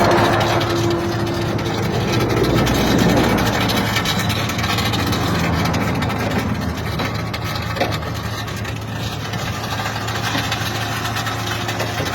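A broken-down ambulance engine runs with the hood open, a steady mid-pitched idle drone with rattling vibration throughout, close and fairly loud, with faint background noise and no clear talk.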